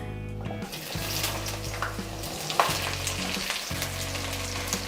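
Cut okra hitting smoking-hot oil in a pan for aloo bhindi, an instant loud sizzle that settles into steady close frying with light stirring, no voices.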